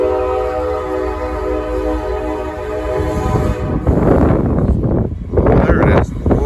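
A big passing train, starting with a long sustained horn blast, then the rumbling roar of cars growing louder and rushing by close, with wind noise mixed in.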